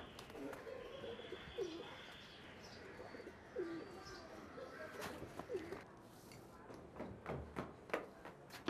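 Pigeons coo softly on a rooftop, several low throaty calls spaced a few seconds apart, faint and distant, with sharp taps and clicks scattered toward the end.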